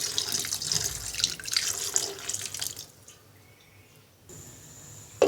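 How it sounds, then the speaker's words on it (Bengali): Water splashes into a pan holding hilsa fish being cooked with taro, a close, gurgling pour for roughly three seconds that then tapers off to near quiet. "এবার অল্প পরিমাণ পানি দিয়ে মাছটাকে রান্না করে নিব"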